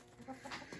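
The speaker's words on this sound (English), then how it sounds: "I'm going to let my chickens out." Backyard chickens being let out of a crate cluck softly in a quick irregular string of short calls, faint and fairly close.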